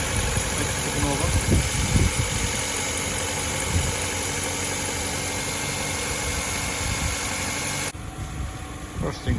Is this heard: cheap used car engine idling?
yes